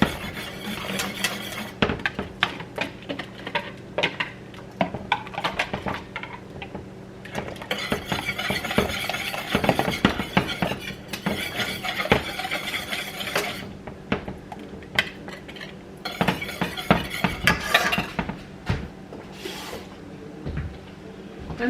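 Uji porridge mixture is poured into a pot of boiling water and stirred, giving continuous clattering scrapes and knocks of a utensil against the pot, fairly close and steady with brief pauses.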